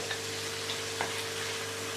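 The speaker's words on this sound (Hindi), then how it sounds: "अब हम इसमें अदरक लहसुन का पेस्ट डाल देते हैं।" Ginger garlic paste fries in a pan for a few seconds as a faint, even sizzling hiss with a low steady hum behind it.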